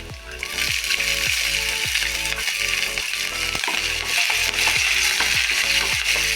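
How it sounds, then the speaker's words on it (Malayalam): Finely chopped green chilies, crushed shallots, urad dal and chana dal fry loudly in hot oil for a Kerala tapioca thoran, a steady dense sizzle with repeated spoon scrapes and knocks against the pan. "എല്ലാം കൂടി ഒന്ന് ഫ്രൈ ആവട്ടെ"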